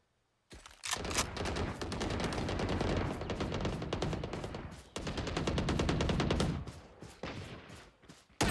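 Sustained rapid bursts of automatic gunfire in the video game Valorant, dense and loud, with a brief pause midway before the shooting resumes and then tapers off.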